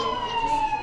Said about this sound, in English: Okay, I hear the ambulance. That's a real siren.